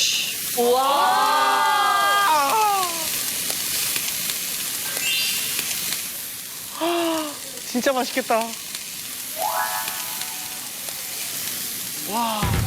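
Week-aged galbi ribs sizzling on a grill, a continuous close hiss under excited voices that exclaim and chatter over it throughout.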